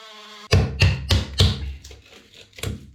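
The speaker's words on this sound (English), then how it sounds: "I'm just going to use the multi-tool just to go around" An oscillating multi-tool works around the edge of a shower tray during installation, heard as a series of sharp, close knocks and buzzy bursts in an irregular rhythm after a brief quiet start.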